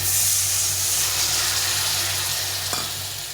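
Vegetable masala in a pan hissing and sizzling steadily as water meets the hot oil, a broad close steam-like hiss with faint stirring, slowly easing toward the end, no talking.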